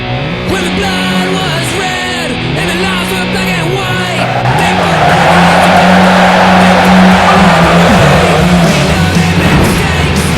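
A video game car revs with rising and falling engine pitch, then spins out as a long, loud tire squeal and skid takes over, close and continuous with no voices.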